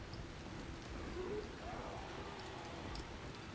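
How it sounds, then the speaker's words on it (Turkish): Steady rain falls in the Dying Light game, a dense even hiss that fills the whole clip, with a faint tonal call drifting through the middle and no speech. "Tabii yağmur için en güzel zaman. Yağmur en güzel zamanı bekler."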